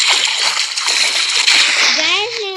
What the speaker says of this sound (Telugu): సౌండ్ అయితే తగ్గించుకోండి, ఎందుకంటే వాటర్ సౌండ్ ఎక్కువ ఉంది కదా